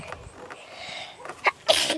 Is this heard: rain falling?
no